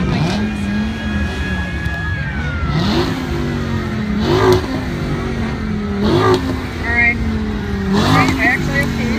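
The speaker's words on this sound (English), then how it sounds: "So now we have to start our engines" Porsche engines starting and revving at an outdoor concours in the hills, with loud sustained engine tones rising and falling in repeated revs while people talk over the running motors.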